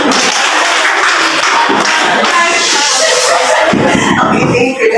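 A classroom of students claps for a classmate, a dense burst of applause from nearby that keeps going for several seconds.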